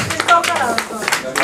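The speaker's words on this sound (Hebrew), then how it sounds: "רק 10 אנשים מוחאים לו כפיים" Scattered, uneven clapping from a few audience members at a rabbi's lecture seminar in Netanya, with a voice speaking over the handclaps throughout.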